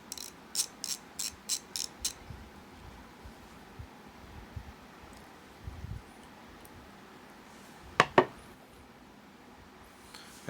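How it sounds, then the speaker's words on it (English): A Harbor Freight Icon 1/4-inch drive ratchet clicks in a quick run of about six sharp ticks while turning a bolt, followed later by two louder clicks, over faint background hiss and wind. "And you see the ratchet seems to work fine."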